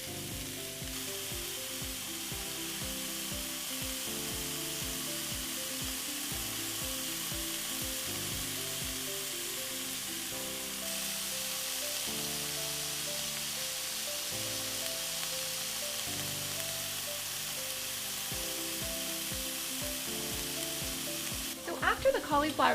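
Cauliflower steaks frying and browning in a pan, a long, steady, even sizzle with a few clatters near the end and no voices.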